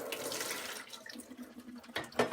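Liquid drains out of an opened can into a sink, a soft trickling pour that runs for about two seconds, fairly quiet and close, ending in a few brighter splashes.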